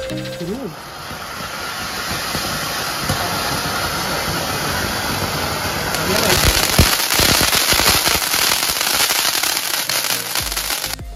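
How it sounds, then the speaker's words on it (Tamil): A Paris Tower fancy firecracker from Sivakasi going off with a loud, continuous fizzing hiss and crackle that swells and intensifies about halfway through, burning steadily for several seconds, close by. "பாரிஸ் டவர் தான் ட்ரை பண்ண போகிறோம்."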